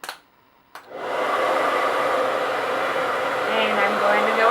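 Handheld blow dryer on its cold setting used for a lash test: after a short click, it starts up and runs as a steady, loud whooshing roar with a faint whine, continuing unbroken.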